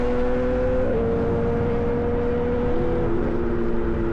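A loud motorcycle engine roars steadily close by as it passes, its pitch rising and shifting as it revs, with constant road rumble underneath and no talking.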